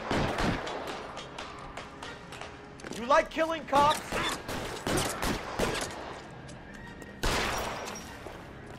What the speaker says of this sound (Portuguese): Ui, já estão os tiros lá em cima.